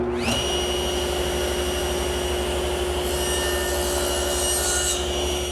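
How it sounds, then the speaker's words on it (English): A table saw running steadily at close range while a wooden tenon is cut against a stop block, a constant loud motor whine with a low drone and a brief rise in pitch as it spins up. "I'll do that over at the table saw."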